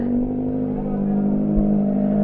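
A hot Kawasaki Ninja ZX6R sports motorcycle engine hums steadily at high revs, a strong sustained tone with a faint voice underneath, loud and close throughout.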